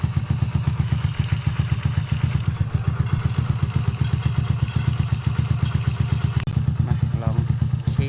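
A small motorcycle engine runs loud and close with a rough, steady, rapid pulsing throb that continues throughout, while a voice talks over it.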